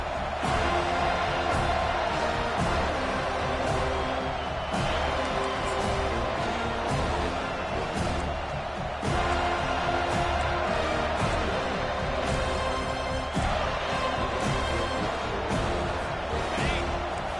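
A college football stadium crowd at a Washington at Florida State game roars steadily behind the defense on third down, a dense and constant wall of loud cheering that swells slightly midway through.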